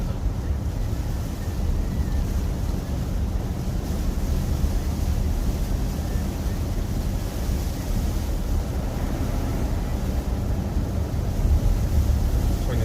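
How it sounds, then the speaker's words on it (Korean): Heavy rain on a car driving at night along National Route 48 on Ganghwa Island, a steady dense roar and hiss of rain and road noise that stays loud and unbroken throughout. "비가 좀 상당히 많이 오고 있습니다"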